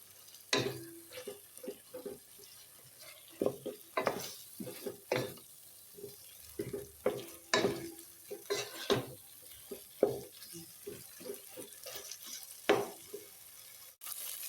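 Chicken pieces cook in a pan while a spoon stirs them in irregular scraping and knocking strokes over a faint, low sizzle; close and quiet, no talking.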